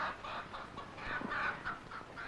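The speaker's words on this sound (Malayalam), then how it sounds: "ഇത് കൊക്കല്ല, കോഴിയാണ്." A chicken clucks in a string of short, evenly spaced clucks at moderate distance over a quiet background, with no one talking.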